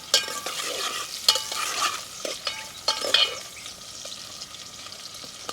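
Chicken with bottle gourd frying in a pan, heard as continuous sizzling with repeated scraping strokes of a spoon stirring through the pieces, steady and close with no talking.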